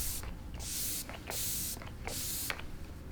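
Three quick hissing sprays from a makeup setting spray pump bottle, evenly spaced, close and crisp, with faint clicks of the nozzle between them.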